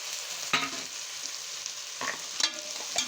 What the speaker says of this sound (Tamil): அப்படியே ஒரு வதக்குக்கலாம்